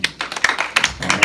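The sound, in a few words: hand clapping in church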